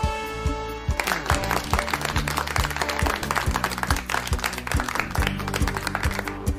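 Dense applause from a group, steady rapid clapping throughout after a brief musical note at the start, fairly loud and continuous.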